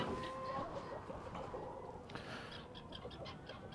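Hens in a chicken pen clucking steadily at close range, with overlapping soft calls against a low rustling background.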